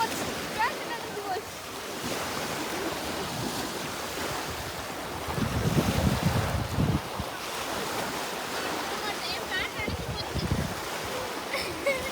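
Sea waves washing onto a beach at Sealine, Mesaieed, a continuous surf wash with wind buffeting the microphone and a louder wave surge midway, while people talk nearby.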